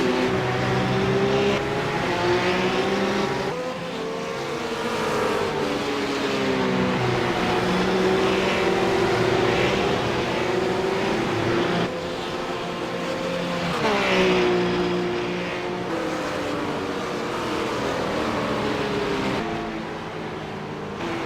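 Race car engine on a flying lap at the Race of Champions, screaming at high revs with sustained rising and falling pitch sweeps through gear changes, loud and continuous throughout.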